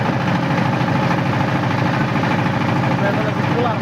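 A motor boat engine chugs on a river trip, a loud, steady close drone with a faint pulsing rhythm that runs continuously while people talk over it.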